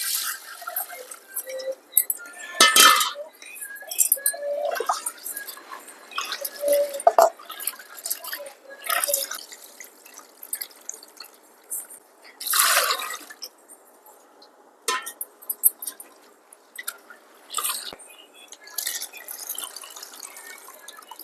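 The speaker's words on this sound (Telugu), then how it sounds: "కడుక్కున్నాం కదా ఇప్పుడు మంచి నీళ్ళు పోసి" Water pours and splashes intermittently over washed toor dal set to soak in a vessel, in irregular gurgling bursts and drips, close by, with a voice speaking briefly in between.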